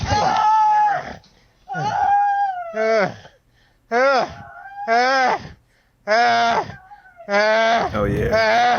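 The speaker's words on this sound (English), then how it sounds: "Why is she screaming?" A woman's high, strained screams rise and fall in repeated bursts with short gaps between, loud and close, at a chaotic scene after a shooting.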